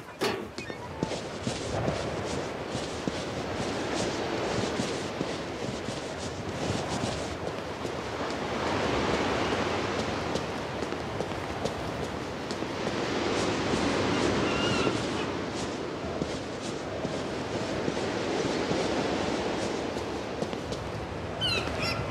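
Steady rain hiss mixed with gentle water sloshing from swimming in the rain in the video game Broken Pieces, a continuous broadband wash that swells and ebbs, with faint footstep-like ticks scattered through.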